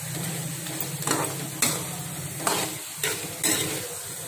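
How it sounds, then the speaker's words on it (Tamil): Eggplant sautéing in oil in a pan for a Tamil oil-brinjal curry, with a steady soft sizzle broken by several sharp scraping stirs of a spoon against the pan. "எண்ணெயிலேயே இப்படி ஒரு 2 நிமிஷம் வதங்கட்டும்"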